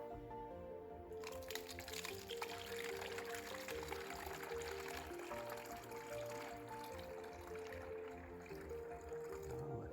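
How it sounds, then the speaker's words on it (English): Homemade hummingbird feeder mixture poured through a funnel into a feeder, a steady continuous gurgling fill with a faint hum underneath. "So Hadley, if you want to go ahead and pour that mixture in here"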